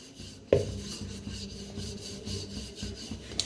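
Maize flour flatbread dough is rolled out like a chapati, producing a soft, steady rubbing and rasping with repeated gentle strokes after a sharp knock at the start, close and fairly quiet.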